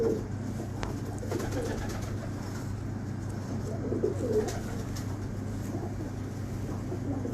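Soft pigeon cooing murmurs through a steady low hum of background noise, with faint distant traffic.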